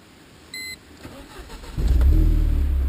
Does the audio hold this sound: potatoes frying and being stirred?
no